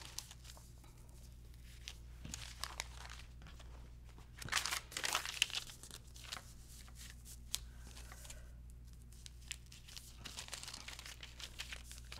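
Quilting triangle paper being handled, giving crisp, close crinkling and rustling in irregular bursts, with a louder flurry of crumpling midway over a quiet room hum.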